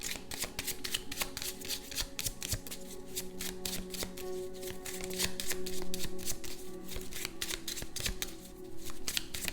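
Tarot cards are shuffled in quick repeated riffles, a crisp close flutter of card edges that pulses steadily throughout.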